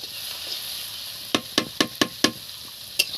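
Garlic frying in a pan under a soft, constant hiss, punctuated by about six sharp, close spatula taps in a quick run, then one more after a short pause.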